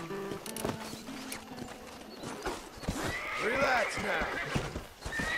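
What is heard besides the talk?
horse neighing and hooves from Red Dead Redemption video game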